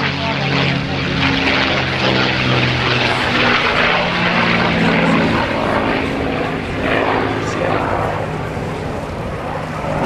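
A loud propeller warplane with an American-built Merlin engine roars steadily nearby at an airshow, its deep engine drone and buzzing prop sound filling the whole stretch.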